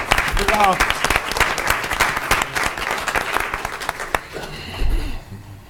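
A round of applause from attendees at a school district board meeting, steady clapping with a voice briefly heard, tapering off near the end into a quieter room.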